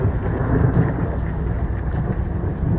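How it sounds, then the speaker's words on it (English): Thunder rumbles on a mountain at about 11,000 feet during a storm, a loud, deep, continuous roll mixed with wind buffeting the microphone, with no speech. "The lightning and the thunder has been insane coming down this mountain."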